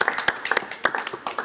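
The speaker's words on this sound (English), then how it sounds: "Give yourselves a massive round of applause." A small group claps in a short, uneven burst of applause, with quick overlapping hand claps at close range and no speech.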